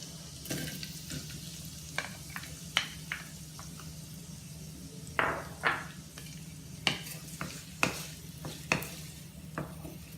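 Onions fry in a pan alongside green chilies while a spoon stirs them, giving a low steady sizzle broken by sharp intermittent scrapes and clinks, close and moderately quiet.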